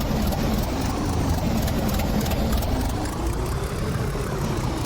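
Engine of an accelerating cart in the Roblox game, a steady droning hum with a slowly rising pitch, loud and continuous throughout.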